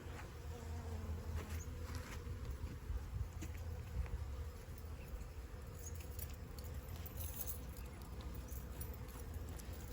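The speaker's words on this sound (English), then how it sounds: "the bees are very active" Bees swarm busily around sugar water feeders outdoors, a steady dense buzz filling the scene with scattered brief insect passes close by, continuous throughout with no voices.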